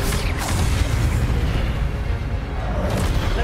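The Accio summoning spell from Hogwarts Legacy, a dense rumbling magical burst with brief swooshing sweeps near the start and end, loud and continuous, alone without talk.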